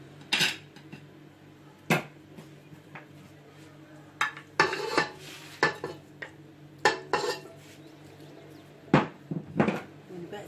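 Chicken pieces go into a pot with onions during a Moroccan chicken bastilla preparation, giving several clanking metal-on-pot knocks and scraping stirs at close range, with a steady low hum behind.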